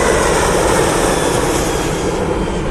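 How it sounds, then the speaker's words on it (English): A Boeing 737-800 jet airliner roars steadily overhead, a broad loud rushing drone that holds without pause and begins to fade slightly at the end. "It's a 737-800."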